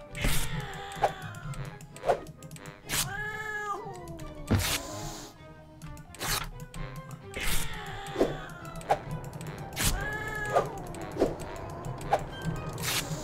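Repeated cartoonish cat meows from a cat mini-game in Jazzpunk, several bending upward calls over busy electronic music and clicking effects.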